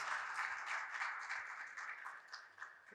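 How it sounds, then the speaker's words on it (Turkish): An audience applauding at a national radiotechnology congress, a steady wash of many hands clapping at moderate distance for a few seconds, fairly quiet with no talk over it. "Huzurunda sizleri de kendinizi alkışlamanız için davet ediyorum"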